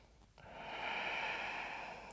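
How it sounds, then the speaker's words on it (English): Slow, deep breathing during a yoga pose: a short sniff followed by a long, steady airy exhale close to the mic, alone in a quiet room. "Two deep and full breaths here."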